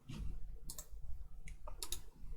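Computer mouse buttons clicked while working in Word on a Windows computer, a few sharp close clicks spaced irregularly over a low background hum.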